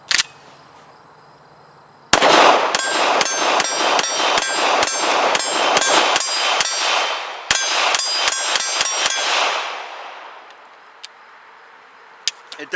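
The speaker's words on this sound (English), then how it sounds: "at the range, CZ P-10C, first rounds through it." A CZ P-10C pistol fires at an outdoor range, shooting its first rounds in two quick strings of loud, sharp, ringing shots. A long echoing tail follows, then quiet with a few faint clicks.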